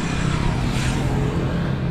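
Steady, loud roadside traffic noise in the Philippines, a continuous rumble of passing cars and engines close by, with no voices over it.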